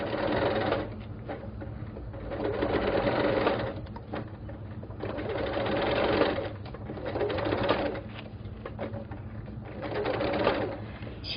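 Sewing machine stitching a fabric quilted pouch with a presser foot, running in steady buzzing bursts that rise and fall across several stretches, close and continuous with no talk over it.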